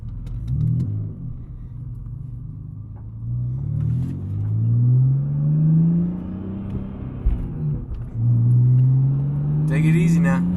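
A BMW E46 fitted with a new stage 1 clutch revs and pulls away, its engine drone rising in pitch through repeated climbs with a dip and re-rise near the end, loud and close inside the cabin, with a brief clatter at the close.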